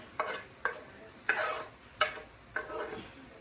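Orange and green peppers are stirred in a pan for a Thai-inspired chicken curry: five soft, evenly spaced scraping strokes, close and fairly quiet, with a faint sizzle beneath.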